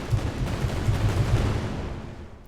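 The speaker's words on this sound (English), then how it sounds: "There we go, explosion," Explosion effect from an area-of-effect attack in an Unreal Engine 5 game, a loud broadband blast with crackling rumble that sustains and then fades out near the end.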